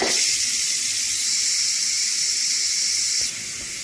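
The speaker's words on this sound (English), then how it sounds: "so we're going to release the rest of the pressure" Steady loud hiss of steam venting during a manual pressure release on a Ninja Foodi pressure cooker holding wild rice stew, continuous and close, then dropping abruptly to a quieter hiss near the end.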